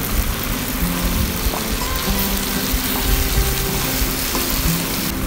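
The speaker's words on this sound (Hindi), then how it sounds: "और इसको अच्छे से भून लेंगे।" Cumin and turmeric fry with a spice paste in a pan for chicken masala, producing a loud, continuous close-up sizzle that stays steady throughout with no talk.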